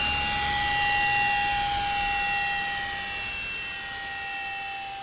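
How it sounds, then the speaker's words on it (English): A commercial jet in an RC flight simulator game gives a steady synthetic engine whine with sustained tonal hums over broadband rush, loud and continuous, slowly fading slightly, with no talking. "And here's a commercial jet."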